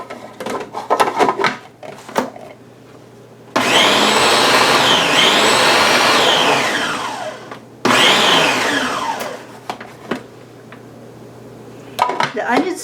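A blender purees roasted tomatillo salsa with onions and a shot of vodka in two loud, whirring runs, its pitch rising and dipping as the mixture churns, with clatter and a speaking voice before and after.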